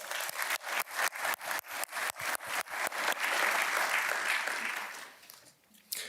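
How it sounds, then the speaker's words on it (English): Audience clapping at an awards ceremony, starting as rhythmic, almost unison claps that blend into a dense ovation before fading out. "Please give them a round of applause."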